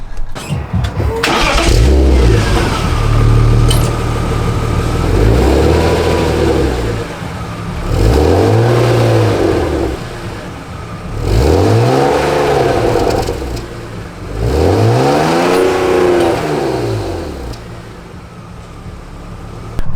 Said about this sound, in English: let's get you some sound clips of what it sounds like with the stock exhaust on